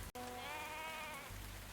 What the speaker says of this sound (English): we got a sheep buying this time instead of a chicken